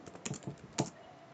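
Typing on a computer keyboard, a short burst of several sharp key clicks in an irregular rhythm, close and fairly quiet, with no talking.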